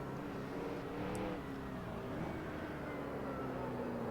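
Race car engine in NASCAR Racing 2003 on the Indy road course, a continuous steady droning roar with slight pitch shifts, loud and unbroken throughout, with no talking.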